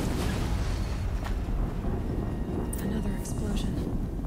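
Rumbling explosion in a video game, a heavy low boom with crackling debris that fills the whole stretch, loud and close, with a few faint higher bursts late on.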